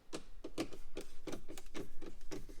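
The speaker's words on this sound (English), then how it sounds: "So we're just simply going to remove those two T20s." Small T20 Torx screws being turned out of a BMW F80 M3 dashboard vent, producing a quick run of soft, close clicking ratchet-like ticks in an even rhythm with no talking.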